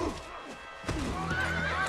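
A horse whinnies in a loud, quavering neigh during the second half, preceded by hoof clip-clop and rustling, with a faint voice mixed in.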